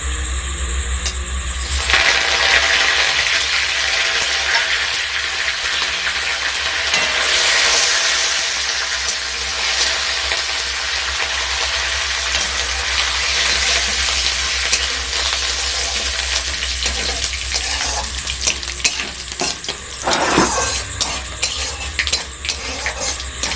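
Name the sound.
vegetables frying in hot oil in a wok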